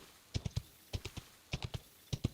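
Camel footsteps in an online multiplayer video game, heard as soft padded thuds in small clusters of two or three, repeating in an uneven walking rhythm, fairly quiet and with no talk over them.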